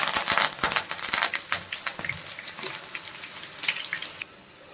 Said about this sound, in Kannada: ಅದ್ರ ಜೊತೆಗೆ ಕರಿಬೇವಿನ ಸೊಪ್ಪು ಹಾಕ್ಕೊತಾ ಇದ್ದೀನಿ.